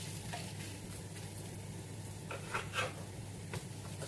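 Chana dal fritters fry in hot oil in a pan, giving a soft continuous sizzle with a few scraping clicks as the fritters are turned over. No voices.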